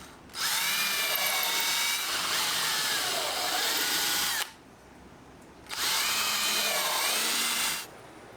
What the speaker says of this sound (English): then drove a screw up through the lever block through the aluminum.